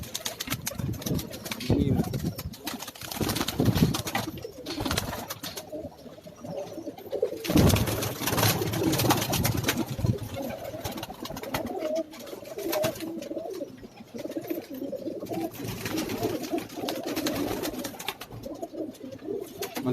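High-flying pigeons on a Karachi rooftop coo in low, repeated rolling calls, close and moderate, over a background of wind and occasional handling noise, with people talking at points.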